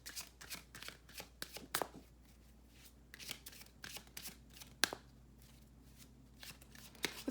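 Tarot cards being shuffled by hand, a run of crisp riffling and flicking bursts with short pauses between them, close and fairly quiet, with no talking.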